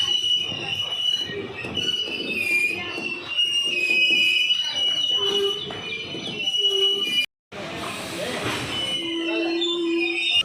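Ambala–Sri Ganganagar Intercity Express 14525 rolls into its final stop at Sri Ganganagar. Wheels squeal sharply and continuously over a rumbling rail bed, pausing for a split second before screeching on with a steady tonal squeal.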